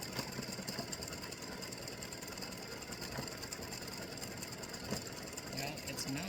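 An embroidery machine works through free-standing lace bat earrings, giving a low, constant mechanical hum with faint rhythmic ticking that stays level and a little distant throughout.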